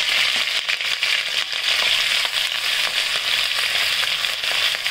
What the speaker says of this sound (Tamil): இஞ்சி பூண்டு பேஸ்ட் போடுறோம்.